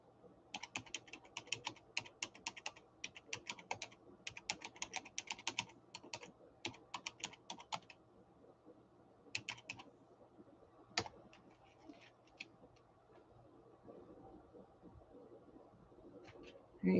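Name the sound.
typing on a computer keyboard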